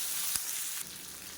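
Chopped onions and garlic frying in a pan give a steady, close hiss of sizzling oil, with one brief crackle and a slight drop in level toward the end.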